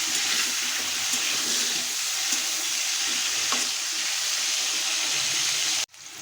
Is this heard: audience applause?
no